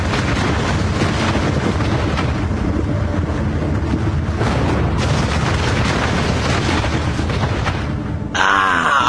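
Fat Man atomic bomb blast over Nagasaki, a deep, continuous roaring rumble that stays loud and dense throughout, like a huge sustained explosion, ending with an abrupt cut to a different sound.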